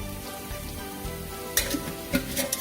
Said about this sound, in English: So at this point I'm going to add ginger garlic paste.